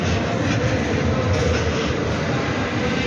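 A metro train running underground, a loud, steady rumbling roar of wheels and carriage noise that stays constant and close throughout, no talk.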